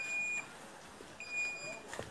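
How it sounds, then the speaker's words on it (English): The electronic alarm of a handwashing water system sounds as two steady high beeps separated by a pause, moderately loud over faint room noise and running water. "As soon as the alarm goes off, the water follows."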